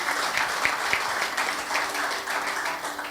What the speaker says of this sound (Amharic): እስቲ ለእግዚአብሔር አጨብጭቡ